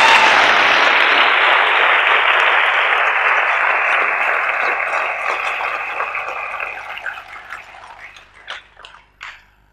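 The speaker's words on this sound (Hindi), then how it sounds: "इतने महान आदमी के लिए जोरदार तालियां तो होनी चाहिए ना कम से कम" Loud, dense audience applause at a motivational talk fills the opening seconds, then thins and fades toward the end, leaving a few scattered, separate claps.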